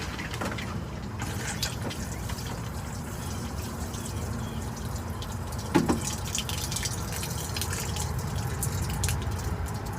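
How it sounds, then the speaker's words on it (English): Rainwater poured over a newly planted grapevine in a garden, a soft continuous splashing and trickling with scattered drips and one louder splash midway. "Just getting watered in with some rainwater."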